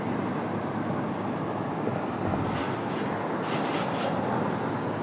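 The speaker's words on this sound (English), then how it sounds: "Aeromexico bringing their MAX 8 here to Washington Dulles from Mexico City." An Aeromexico Boeing 737 MAX 8 arriving at Washington Dulles from Mexico City, a steady broadband jet roar heard from some distance, constant in level with no voices.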